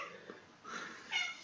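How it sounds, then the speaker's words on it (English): A house cat meows a few times in quick succession, close and fairly clear against a quiet room, with no talking. "This is my fucking cat again."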